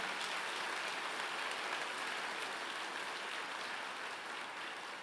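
Church congregation applauding: a steady, dense wash of many hands clapping together, sustained evenly throughout at moderate distance, with no talk over it.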